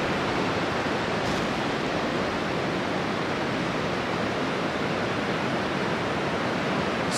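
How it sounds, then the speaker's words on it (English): Waterfall on a rural backroad stream by an old bridge in northern Massachusetts or southern New Hampshire, a steady broadband roar of falling water, loud and continuous throughout with no voices. "Some waterfalls."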